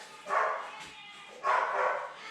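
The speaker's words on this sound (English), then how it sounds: "Cut out the barking." A dog in a house barks twice in short, loud bursts about a second apart, close by.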